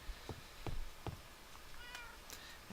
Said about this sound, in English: Got myself some kitty cats and a puppy dog.